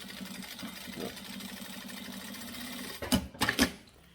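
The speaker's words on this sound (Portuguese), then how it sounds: "vou passar a costura de outro lado também" A sewing machine stitches a safety seam on a cable organizer, running as a steady mid-pitched whirring hum, then ending in two sharp, louder bursts of needle clatter near the end.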